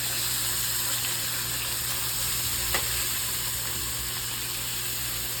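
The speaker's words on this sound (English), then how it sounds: "Then I'm going to add in 2 tablespoons of Puerto Rican sofrito." Puerto Rican sofrito sizzles steadily in a pot as the base for beans, a constant close frying hiss with no talking.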